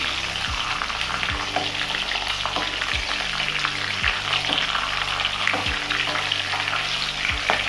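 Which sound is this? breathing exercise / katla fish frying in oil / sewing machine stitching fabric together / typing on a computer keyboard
katla fish frying in oil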